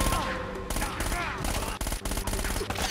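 Rapid gunfire bursts from the video game Uncharted: Drake's Fortune, dense overlapping shots and a loud sustained fusillade layered with music and game effects across the whole stretch.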